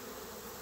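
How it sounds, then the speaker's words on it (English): A honeybee swarm of a couple thousand bees buzzes around a pine tree, a faint, continuous droning hum over steady outdoor noise with no pauses. "there's about a couple thousand bees flying around out there around that pine tree"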